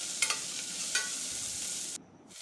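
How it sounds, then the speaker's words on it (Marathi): Finely chopped carrot and onion frying in oil for coconut milk rice: a soft, continuous sizzle broken by a few quick metallic scrapes of a spoon, with a brief dip in level near the end. "त्यानंतर आपण इथे टाकूया बारीक कट केलेला गाजर आणि एक बारीक कट केलेला कांदा, हे सुद्धा छान असं तेलामध्ये परतून घ्यायचं"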